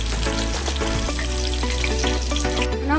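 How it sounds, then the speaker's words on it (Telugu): Green chillies fry in hot oil while Aloo 65 is being made, a loud, steady, close sizzle that runs the whole way through over a constant tonal hum. "పచ్చిమిర్చిని ఫ్రై చేసుకోవాలి"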